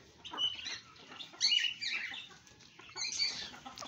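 Desi chickens and an aseel rooster in a backyard cage setting, with soft clucks and short calls rising in several bursts at moderate distance over faint background noise.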